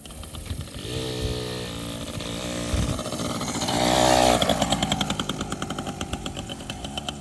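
Small Yamaha PW80 two-stroke dirt bike engine revving as a kid rides it, pitch rising and falling through gear changes, close and loud with a rattly buzzing tone throughout.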